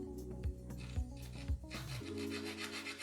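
A small hand saw cuts through a little piece of timber up close, giving a rhythmic rasping stroke pattern with a few thumps, then turning into a faster, rougher continuous sawing.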